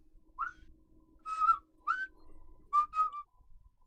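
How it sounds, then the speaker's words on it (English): A person whistles a cheerful tune in short, bright phrases of a few notes each, separated by brief pauses, fairly close in a quiet room with no talking. "He's just whistling a happy tune because we're going to see dwarves."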